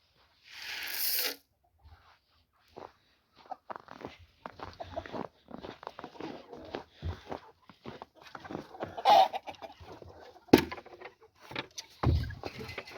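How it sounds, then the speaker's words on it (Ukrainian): Hens in snow are fed corn, giving soft scattered clucks and pecking sounds amid rustling and a door-like bang, intermittent and fairly faint with no talk. "несу своїм курочкам кукурузу. Ось вони виходять їсти."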